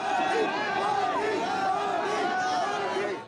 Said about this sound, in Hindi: उनके स्वागत के लिए सड़कों के किनारे लोगों की भारी भीड़ उमड़ पड़ी